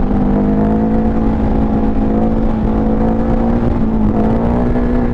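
A Ducati Panigale V4 motorcycle engine runs loud and close in a steady, even drone, its pitch holding level before edging slightly upward near the end, with no talking.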